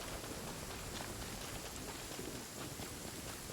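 Steady rain falling in Genshin Impact, a dense, even hiss of drops pattering on surfaces throughout, with no voices.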